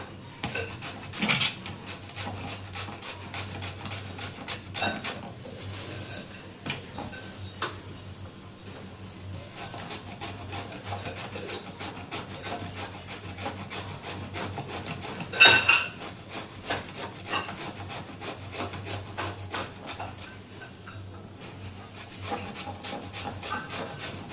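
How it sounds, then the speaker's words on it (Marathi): Pumpkin (bhopla) being finely grated by hand for halva in a kitchen, a steady stream of quick rasping strokes with light metallic clinks, fairly close and continuous with no talk. "अशा प्रकारे बारीक किसून घ्यायचं, पूर्ण किसून घेणार मी।"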